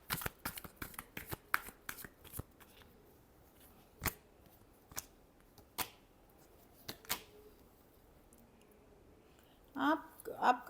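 Tarot cards are shuffled in a series of sharp, close riffling bursts, rapid at first and then more spaced out, ending with faint speech.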